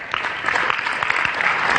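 A motivational-talk audience gives a round of applause, brief, dense clapping from a crowd at steady strength, with no one speaking over it.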